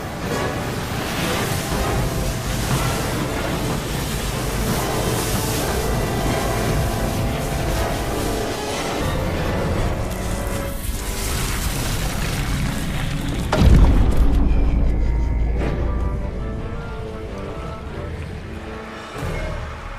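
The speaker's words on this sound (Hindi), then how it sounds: "भागो, तूफान आ गया। राजन, ये लहरें तो बहुत ऊंची हैं।" High ocean waves surge in a storm near a seaside temple, a continuous heavy roar of churning surf broken by one deep, booming crash about two-thirds through before the noise slowly recedes.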